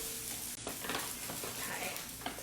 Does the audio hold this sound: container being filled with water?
no